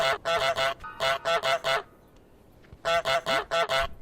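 Cartoonish goose honks from Untitled Goose Game, loud and close, in three rapid bursts of four to five honks each, with a short quiet gap before the last burst.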